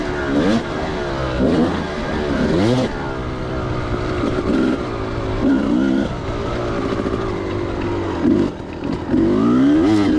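A 2004 Kawasaki KX250 two-stroke dirt bike ridden at a dirt park, its engine revving up and down continuously with rising and falling pitch sweeps, loud and close throughout.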